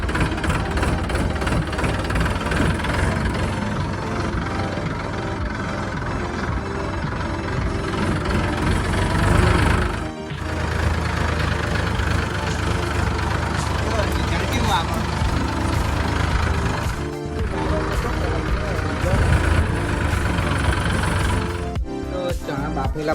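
A tractor engine idles steadily in a farm field while fertilizer is being applied, a continuous low throbbing drone with brief dips, heard close and loud under occasional talk.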